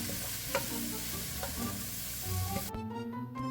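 Carnitas enchilada filling stirred in a pan, soft sizzling under scraping and a few sharp knocks of a spoon against the metal, close by, with the sizzle cutting off near the end as a background music tone rings on.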